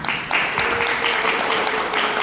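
Sustained applause from an audience at an art concert, dense clapping that swells in after a brief moment and continues steadily and loudly throughout.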